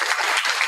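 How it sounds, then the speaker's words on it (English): A short burst of dense audience applause, loud and even, many hands clapping together in a hall. "Let's give him a round of applause"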